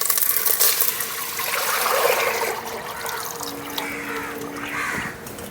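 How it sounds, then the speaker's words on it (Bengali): Buttermilk poured into a hot pan of spiced oil while making kadhi pakora, a close liquid splash and trickling hiss that slowly settles into a softer bubbling sizzle. "তৈরি করা রাখা ঘোলটা দিয়ে দিচ্ছি।"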